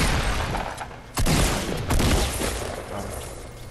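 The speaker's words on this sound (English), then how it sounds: "I'm gonna tell you when to start firing with your AR" Assault rifle fire in a Fortnite squad match: dense, continuous bursts of automatic gunfire, loud and close, with sharper surges of shots partway through and no talking.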